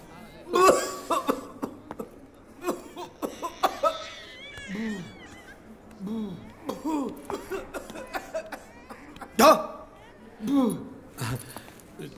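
Bursts of coughing break up ongoing talk, with a few sharper coughs standing out and some laughter mixed in.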